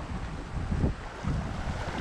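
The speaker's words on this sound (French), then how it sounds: "Ça bouge un peu, il y a quand même pas mal de vagues" Waves wash and slosh around a boat at a small Caribbean beach, a soft rolling surge mixed with gusty wind noise, fairly close and with no one speaking.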